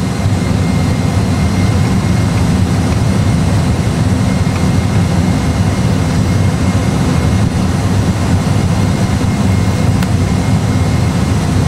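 Airbus A320 jet engines roar steadily as the airliner accelerates after takeoff, a dense, even, loud rumble with no breaks throughout.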